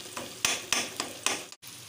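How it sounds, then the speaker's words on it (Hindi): Eggs go into a tomato mixture in a hot frying pan: a soft sizzle broken by four or five sharp, rhythmic stirring scrapes, then a brief cut-out near the end. "बस हम अब इसके अंदर अंडे डालेंगे।"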